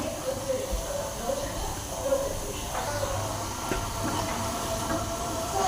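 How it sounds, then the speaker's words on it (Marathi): Moong dal bhaji deep-frying in hot oil until crisp, a steady close hiss and bubbling sizzle that continues throughout without pause. "छान अशी खरपूस होईपर्यंत आपण ही भजी भाजून घेणार आहोत।"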